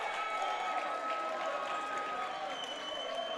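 A crowd at a men's college volleyball match applauds a service ace, steady clapping and cheering that holds at a moderate, somewhat distant level for a few seconds, with faint voices underneath.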